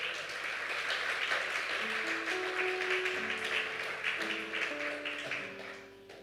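A church congregation applauds in a steady, continuous wash of clapping, with sustained musical tones playing underneath.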